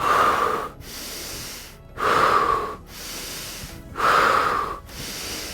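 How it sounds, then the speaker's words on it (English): Bellows breathing during outdoor yoga by the Golden Gate Bridge, three long forceful breaths with rushing airy hisses that alternate between louder strained pulls and softer releases, close and alone with no talk. "We'll do 10 bellows breath followed by 30 breaths of fire."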